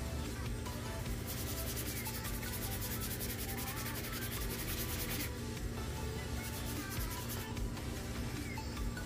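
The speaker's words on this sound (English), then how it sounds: "we're going to take a sanding sponge and we're going to get rid of it" Continuous scratchy rubbing of a sanding sponge worked back and forth over titanium to remove an anodized layer, steady and fairly loud with rhythmic strokes and no talking.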